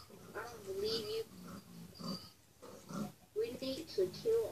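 Pigs oinking and grunting in short, uneven bursts, mixed in with nearby voices and breathy sounds.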